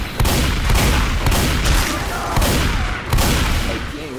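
Rapid bursts of gunfire in the zombie shooter Left 4 Dead 2, loud and dense, with several sharp volleys cracking over a constant din of game noise across a few seconds.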